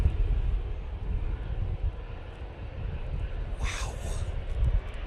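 Airliner departing Manchester Airport on a windy day, a steady low engine roar buffeted by gusting wind throughout, with a brief hissing swell toward the end; people exclaim faintly nearby.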